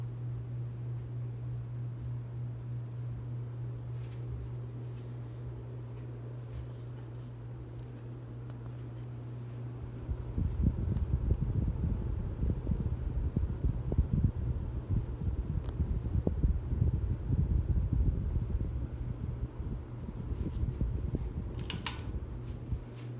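A Harbor Breeze Ocracoke 42-inch ceiling fan runs on high indoors, heard faintly. A soft steady hum gives way to a fluttering, airy whoosh of moving blades.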